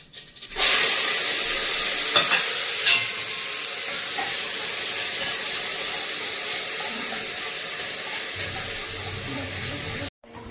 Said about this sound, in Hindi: और मेरा रिफाइंड हो चुका है गरम गैस, तो मैं इसमें ना थोड़ा जीरा डाल दूँ।